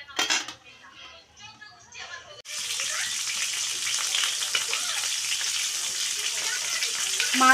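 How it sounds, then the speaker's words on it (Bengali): Boal fish flipped to fry its other side in oil: after a quieter opening with some clatter, a steady loud sizzle bursts in and keeps going close by, with a voice briefly heard early on. "এই সাইডটা ভালো করে আবার ভেজে নেব"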